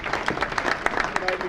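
Banquet crowd clapping at a sports hall of fame dinner, a brief burst of scattered claps with a murmur of voices mixed in, fairly quiet and short.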